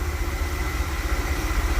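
A Dodge Tradesman B200 van engine idles while warming up; it gives a steady, even low rumble with a slight pulsing throb, close and alone with no voices.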